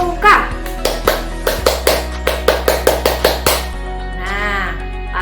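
Children doing the Pramuka scout clap in a school scouting activity: a group of young voices chant, then a rapid run of about a dozen sharp, rhythmic claps in unison, followed by more chanting.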